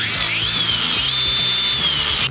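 A DEWALT brushless angle grinder with an electric brake whines at a steady high pitch, close and loud, then cuts off sharply as the brake stops the disc.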